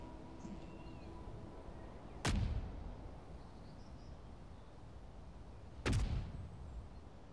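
Custom turrets in the Space Engineers video game fire one after another, two sharp booming shots several seconds apart, each with a short decaying rumble over faint background hum.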